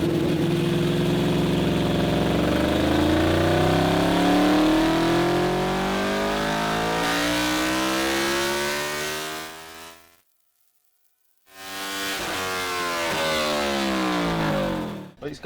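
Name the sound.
Honda VFR800 motorcycle engine revving on a dyno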